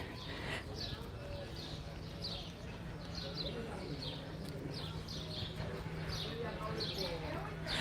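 Birds cheep repeatedly in short bursts amid steady outdoor background noise in Cala Millor, Mallorca, with a low hum running underneath.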